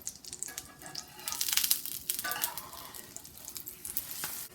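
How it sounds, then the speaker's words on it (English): Soft, steady sizzling and crackling of cornmeal hoe cake batter frying in a hot pan, close by with no talking. "let the hoe cakes fry until they're golden brown"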